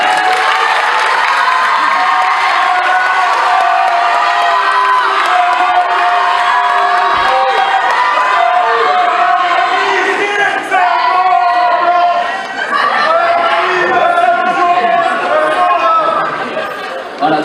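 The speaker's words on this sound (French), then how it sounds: "et on peut les applaudir aussi." A crowd at a French debate event on the theme of peace applauds and cheers, a loud, continuous wash of clapping, whoops and overlapping voices that holds steady throughout, with children's shouts mixed in.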